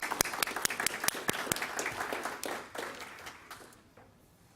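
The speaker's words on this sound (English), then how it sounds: "please give him a big round of applause." Audience applause at an accountability meeting: a handful of sharp individual claps at first, building into scattered clapping that gradually thins and fades out over a few seconds.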